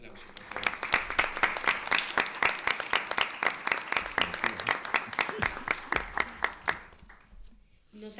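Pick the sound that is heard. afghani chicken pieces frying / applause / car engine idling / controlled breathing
applause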